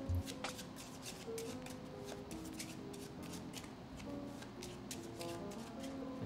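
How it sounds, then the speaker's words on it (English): Playing cards are shuffled by hand during a close-up magic trick, giving a steady run of soft riffling and flicking that continues for several seconds at close range, with no talking. "Alright, I'm gonna shuffle the cards just like this."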